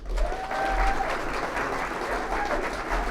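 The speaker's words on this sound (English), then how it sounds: "Let's have a round of applause for Billy" An audience at an apprenticeship awards ceremony claps in steady, moderately loud applause filling the room, with a faint tone drifting underneath.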